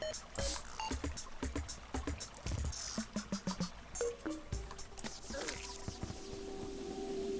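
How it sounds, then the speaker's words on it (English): Terraria dungeon ambience in a video game, sparse watery drips and soft knocking clicks with low drifting tones, quiet and irregular without speech. "I think this is the dungeon sound though"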